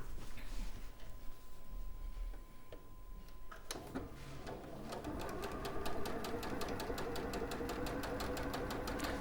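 A sewing machine stitches a Sanderson squirrel quilt from the edge toward a corner. After a few sharp clicks it settles into a steady, fast mechanical rattle, close and fairly quiet.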